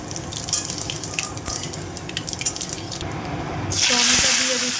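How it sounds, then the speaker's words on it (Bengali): Cumin seeds dropped into hot oil in a wok, a crackling sizzle that builds and then bursts into a loud, bright hiss near the end, heard close with kitchen clatter before it. "জিরে ফোড়ন দিলাম"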